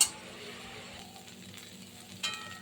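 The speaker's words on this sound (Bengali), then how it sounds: "এটা কিন্তু লাউ পাতা টালা হলো এটা ভাজা হলো" Bottle gourd leaves fry in a pan as they release their water. A soft, quiet sizzle runs throughout, with a light clink at the start and another about two seconds in.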